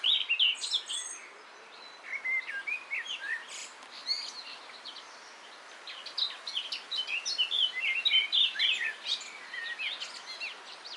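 Several birds chirp and trill in Queens Park in May, bright overlapping calls arriving in irregular bursts, fairly close but soft against a quiet outdoor background with no talking.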